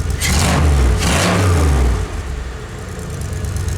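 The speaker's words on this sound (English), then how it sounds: "And it revs like it should." A V8 engine in a Toyota Celica revs up loudly for about two seconds, then drops back to a steady, lower idle rumble.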